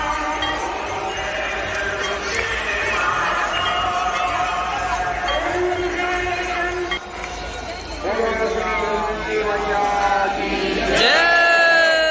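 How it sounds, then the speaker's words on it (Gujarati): A dense crowd gathered on the Ganga riverbank at Haridwar waiting for the evening aarti, loud and continuous, with many overlapping voices, shouts and cheers around the listener and a sharp rise in noise near the end. "ઓહો ભાઈ ભીડ તો જોવો અહીંયા ગંગા નદી કાંઠે"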